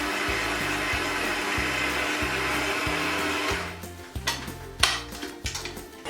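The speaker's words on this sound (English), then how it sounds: "Bowl back on the stand mixer, lid down, and then starting on a low speed so I don't end up wearing most of that flour" A stand mixer runs at low speed, working flour into vegan sugar cookie dough with a steady motor whir. The whir then gives way to irregular knocks and clunks of the beater in the bowl.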